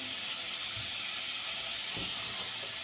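Vegetables for a pasta dish fry in lemon juice, giving a steady loud steamy hiss with a couple of soft thumps from the pan, and no speech.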